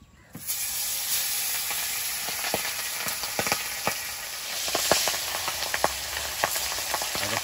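Pabda fish frying in hot oil in a wok: the sizzle starts suddenly and loudly as the fish goes in, then holds steady with sharp pops and spits scattered throughout, close up and without speech.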